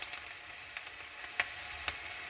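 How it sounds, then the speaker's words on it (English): Onions fry and caramelize in a pan for a mushroom, pepper and garlic butter stir fry, giving a quiet, even sizzle with a few small crackles and pops. "Okay, so the onions are caramelizing and going nice and brown."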